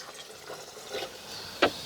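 Water poured into a simple water-based flush toilet at a biogas digester latrine, heard as a faint, close trickle and splash that ends in a short, sharper splash.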